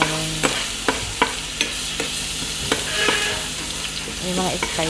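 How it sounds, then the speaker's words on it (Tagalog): Spices including coriander powder, coriander and cloves sizzle in hot oil for chicken biryani, with a constant frying hiss and repeated sharp clinks of a utensil stirring the pan. "So, ayan, prinito ko rin ang mga spices."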